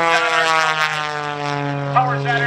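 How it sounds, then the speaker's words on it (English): Aerobatic propeller airplane climbing at an air show, a steady loud droning engine tone with harmonic buzz, heard under an announcer's commentary. "Now he flies that airplane up."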